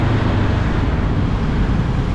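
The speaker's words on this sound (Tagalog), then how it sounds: "ang traffic dito sa baba, papasok ng EDSA" Heavy traffic on EDSA heard from a Honda CL500 motorcycle amid motorcycles, cars and bicycles: a dense, continuous low roar of engines and road noise, loud and steady, with no voices.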